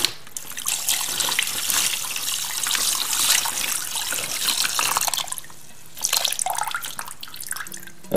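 Brine poured from a container into a bag of peafowl meat, a continuous close splashing and trickling stream that pauses briefly near the end before a last pour, with no talk over it.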